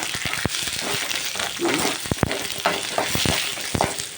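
A pinch of asafoetida fries in a little oil, a soft steady sizzle with occasional sharp stirring clicks and taps against the pan.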